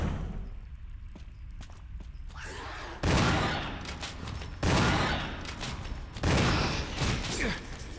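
Gunfire in the video game Resident Evil, several loud, broadband shots or bursts spaced a second or two apart over quieter background noise, with no talking.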